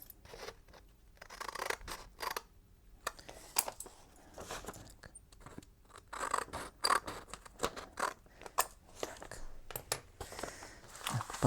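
Scissors snip through paper in short repeated bursts, close and fairly quiet, while trimming corner flaps on a cover during newspaper bookbinding work; no one speaks over the cutting.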